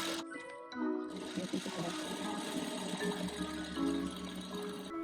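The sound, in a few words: sewing machine stitching a thong bikini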